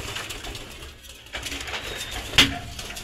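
Budapest pigeons coo in a loft, soft low calls with a sharp metallic clink partway through and steady background noise.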